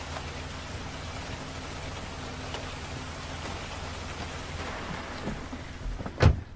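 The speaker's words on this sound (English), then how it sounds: "It's raining." Steady rain falling, a constant hiss of drops on surfaces with a low rumble underneath, ending in a brief louder knock or thump.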